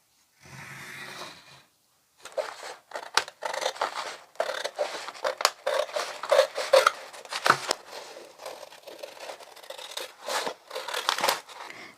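Scissors snip through a sheet of adhesive-backed material for a budget DIY room decor craft, giving a steady run of crisp, close cutting strokes and crinkly rustles after a brief opening rustle, with no one talking.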